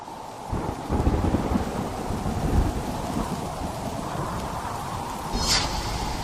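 Heavy rain pours steadily during a violent Kalboishakhi thunderstorm, with deep rumbles of thunder rolling underneath and a slightly louder gust near the end.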